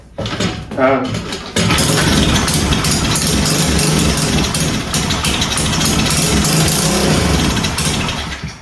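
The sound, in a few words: pit bike engine starting and idling roughly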